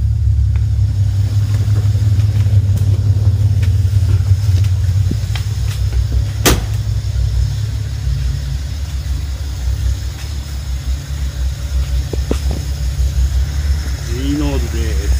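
A Nissan Fairlady S30Z with a newly fitted engine settles into a deep, loud rumbling idle close by, with a brief sharp blip partway through and a steady throb continuing to the end.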